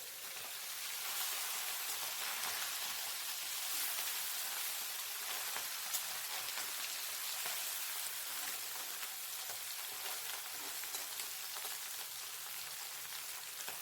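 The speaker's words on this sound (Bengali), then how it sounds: "উল্টে আর এক সাইড ভেজে নেব।" Small chela fish frying in hot oil after being turned over, a steady dense sizzle that holds at an even level with no talk for the whole stretch.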